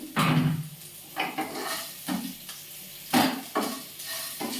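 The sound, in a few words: stirring moong dal with a pinch of salt in a pot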